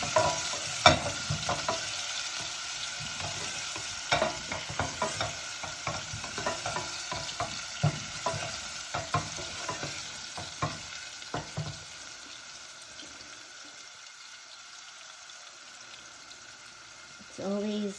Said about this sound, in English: Adding my ginger and garlic first